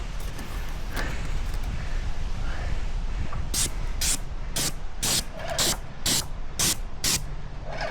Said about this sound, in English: got a little overspray on the window